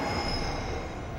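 Subway train of the Daegu metro pulling into Jungangno station, wheels squealing steadily against the rails, a continuous high metallic screech over low rumble, close and loud with no talk.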